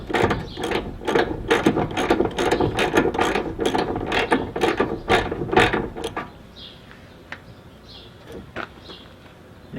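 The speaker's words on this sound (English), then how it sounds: "right now I'm just going to run this bolt up in there" A hand ratchet clicks rapidly in repeated bursts as it drives a bolt into the subframe of a 1979 Trans Am, close and crisp, then slows to a few scattered clicks and quiet.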